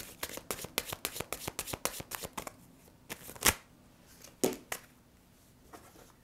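Tarot cards are riffled and shuffled in a quick run of crisp snaps, followed by a few sharper single slaps as cards are drawn and laid down, close and quiet with no talk.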